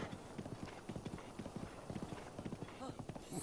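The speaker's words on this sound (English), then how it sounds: "This is probably the last time I'm ever going to tame a horse." Horse hooves clip-clopping at a brisk, even gallop in the video game The Legend of Zelda: Breath of the Wild, with a person talking over the rhythm.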